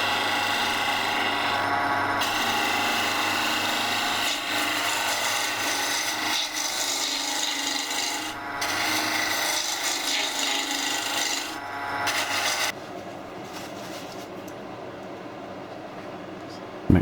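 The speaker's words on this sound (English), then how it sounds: "It's the most boring part of wood turning, taking the rough corners off." A wood lathe takes the rough corners off a turning blank, giving a steady, continuous scraping rasp at close range that runs almost unbroken before dropping away near the end, with talk over it.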